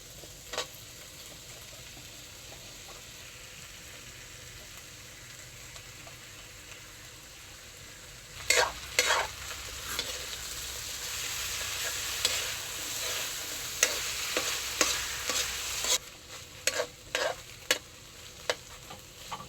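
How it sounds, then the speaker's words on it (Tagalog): Corned beef drops into a pan with potatoes and sizzles steadily, the frying hiss swelling loudly as ingredients hit the oil, with scraping stirs and clinks of a utensil against the pan close by. "So, lagay na natin ang corned beef."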